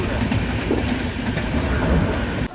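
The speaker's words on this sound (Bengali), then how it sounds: "ট্রেন ঢুকছে, দেখো দেখো দিদি, ট্রেন ঢুকছে প্রায়।" The Kanchan Kanya Express (13149) from Sealdah rolls toward New Mal Junction, heard from inside as a loud, continuous rail rumble with rhythmic clickety-clack of the wheels that cuts off abruptly at the end.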